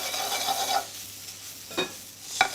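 Glass eels (elvers) are blanched in a hot pan, a hissing sizzle that swells and fades with a few stirring scrapes, close and fairly loud with no talking.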